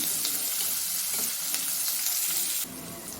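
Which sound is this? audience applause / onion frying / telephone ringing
onion frying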